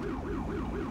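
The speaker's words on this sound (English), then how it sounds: "this is basically the siren that I will be using" Police car siren from a 2018 Dodge Charger in GTA V with the LSPDFR mod, a steady wailing tone that rises and falls in quick regular cycles, loud and continuous throughout with no talk.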